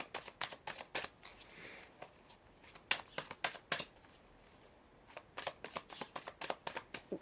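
A deck of tarot cards being shuffled by hand, quick repeated riffling bursts in two runs separated by a short pause, close and clear with no talk.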